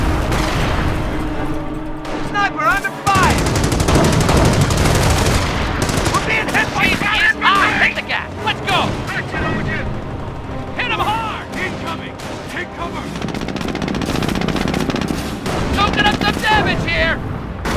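Gunfire and explosions from a World War II Normandy battle in Company of Heroes, with rapid machine-gun bursts, sharp rifle shots and heavy booms, loud and continuous, under excited voices shouting.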